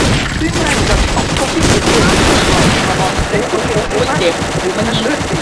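Rapid gunfire in the Vietnam War shooter Vietcong 2, dense loud bursts of automatic fire and shots crackling continuously over a rumbling battle din.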